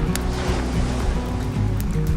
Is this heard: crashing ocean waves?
yes